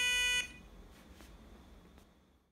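Reversing alarm on a micro:bit car with an ultrasonic distance sensor, a short loud electronic beep at the start that cuts off and leaves a faint decaying tail with a few weak ticks.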